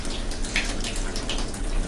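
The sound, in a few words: water running from a tap in a ship cabin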